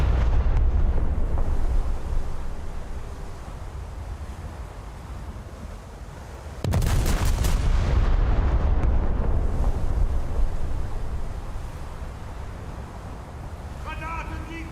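Naval gunfire from the battleship Scharnhorst in a warship video game: a low rumbling wash of distant booms and impacts, with a sudden loud blast of shells landing midway and a voice talking over the din.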